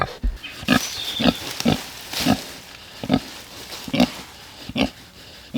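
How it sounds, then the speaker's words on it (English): A pig lies resting in deep shade on a hot day and gives short, rhythmic grunts roughly every half second to second. They sound close and moderately loud, with no talking over them. "Come here, pig."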